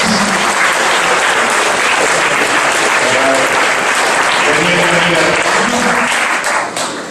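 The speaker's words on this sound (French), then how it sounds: "Alors Stéphane Austin au clavier, vous pouvez l'applaudir" An audience at an art exhibition opening applauds a keyboard player, sustained loud clapping from many hands with some murmured voices mixed in, tapering off briefly at the very end.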